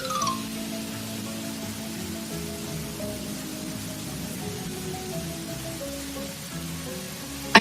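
Steady rain patters continuously, a dense even hiss of drops with no voices, holding at the same level throughout.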